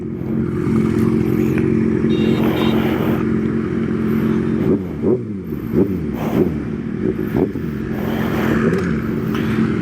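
A Kawasaki motorcycle, one of a group with a Z800 and ZX6R, rides a winding road, its engine droning loud and close, then a run of rising, pulsing revs through gear changes.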